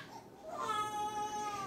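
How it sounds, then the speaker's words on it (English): A baby cries in the background at home, rising from a thin whimper into a sustained, wavering wail that continues to the end, with faint room noise and no clear speech over it. "you can hear the baby in the background crying"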